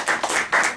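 Audience applause at a lecture hall talk, a short burst of steady, close hand clapping from a fairly small crowd, loud and alone without voices.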